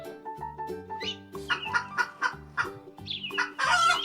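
A chicken clucks in a series of short, nasal, pulsed calls close by, rising into a louder squawk at the end.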